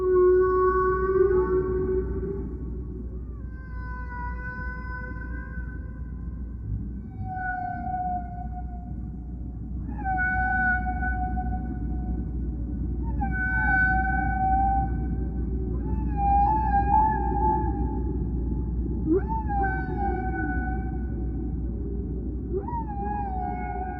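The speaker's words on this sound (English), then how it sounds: "They produced an album of songs they recorded from critically endangered" Humpback whale song recorded underwater: a slow series of long, moaning tonal calls that rise and fall, each swooping unit a few seconds apart, carried over a steady low ocean rumble with no voices.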